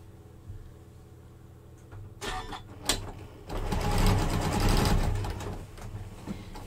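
A sewing machine stitching a quilt block hums at a low idle, then runs in short bursts of rapid, mechanical needle chatter, with a longer, louder run of stitching near the end.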